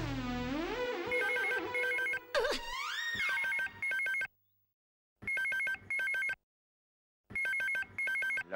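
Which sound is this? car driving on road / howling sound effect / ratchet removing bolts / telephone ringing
telephone ringing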